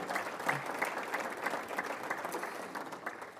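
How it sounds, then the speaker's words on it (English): A crowd at a town address applauds the sponsors with steady, fairly distant clapping that holds level for a few seconds and then eases off slightly at the end. "a round of applause for our sponsors as well"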